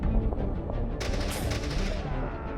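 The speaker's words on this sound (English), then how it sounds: "Executor bolt rounds punch through the cultist with ease" A heavy executor bolt rifle in Warhammer 40k Kill Team fires a rapid burst of loud, booming shots with sharp cracks, close and dense over about two seconds.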